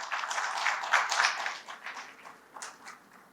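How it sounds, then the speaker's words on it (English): A short burst of audience applause at a national skill conference greets a corporate HR executive taking the stage. It rises quickly, then thins and fades over a few seconds. "Please welcome him with a round of applause."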